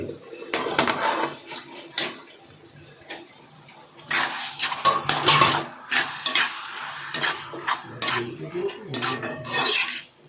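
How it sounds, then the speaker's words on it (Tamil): Tomatoes and onions being sautéed in a pan, heard mainly as irregular clanks and scrapes of a spoon against the pan, with light sizzling underneath, close and fairly loud, with no voices. "தக்காளி நல்லா வதங்கட்டும். தக்காளி நல்லா வதங்கி வரணும்."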